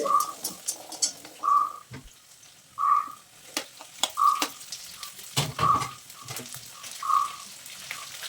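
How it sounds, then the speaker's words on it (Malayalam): Curry leaves, ginger and garlic roast in coconut oil, giving a low, steady sizzle broken by scattered pops and short recurring chirps close to the pan. "വെളിച്ചെണ്ണയിലാട്ടോ റോസ്റ്റ് ചെയ്യുന്നേ കറിവേപ്പില പിന്നെ നമ്മളെ ഇഞ്ചി വെളുത്തുള്ളി"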